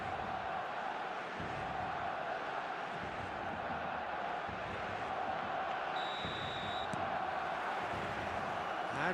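Stadium crowd in the eFootball video game, a dense, continuous roar of many voices with faint whistles and chants, steady and loud, with a brief tonal beep partway through.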